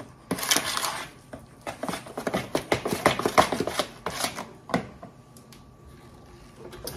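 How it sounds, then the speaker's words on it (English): A spoon scrapes and clinks against a bowl while whipped cream is folded into banana pudding, giving an irregular run of close, soft knocks and scrapes that thin out toward the end, with no talking. "I'm just stirring in that whipped cream to lighten up that pudding"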